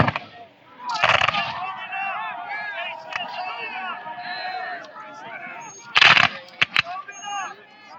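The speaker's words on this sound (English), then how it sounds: "Fire a volley, everybody stops and moves," Musket volleys crack out at a Battle of Cedar Creek reenactment, two loud, sudden blasts a few seconds apart with a few scattered shots following, heard over someone speaking continuously throughout.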